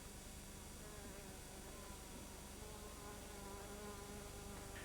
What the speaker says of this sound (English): The male tree's more flamboyant flower attracts a host of insects.